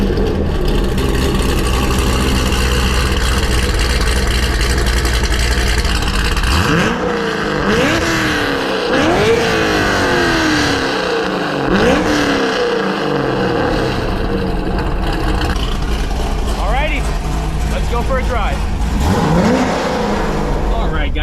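A modified C6 Corvette Grand Sport V8 revs hard and loud, engine notes sweeping up and down in repeated surges over a steady rumbling idle, with a voice briefly speaking nearby.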